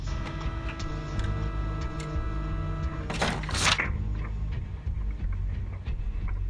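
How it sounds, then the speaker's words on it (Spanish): A home printer runs with a steady mechanical whir and faint ticking, broken midway by a short louder burst of paper-feed rattle, close and without talk. "si yo imprimo algo en mi impresora"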